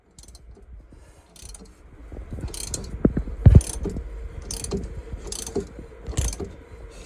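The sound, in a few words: puller pushing yacht shaft to pull transmission coupling off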